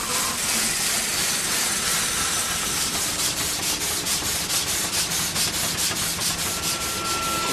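Steam-engine-powered machinery cuts and smooths stone with a loud, steady abrasive rubbing and hissing grind that runs without a break, close by and alone, with a faint regular pulsing underneath.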